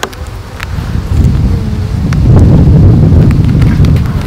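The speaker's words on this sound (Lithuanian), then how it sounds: "vėjas." Wind blowing outdoors at an apiary, buffeting the microphone with a deep, rumbling roar that swells and grows stronger toward the end, with faint rustling on top and no voices.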